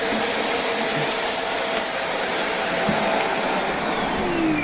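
A 2018 Shark Rotator Speed lift-away vacuum cleaner runs with a steady, loud, unbroken motor whine and airflow rush, heard up close with no talking.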